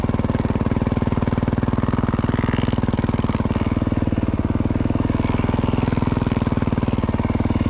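A dirt bike engine revs hard in third gear on a wooded trail, a loud, close, steady buzzing drone with rapid firing pulses that holds for the whole stretch, with no talk.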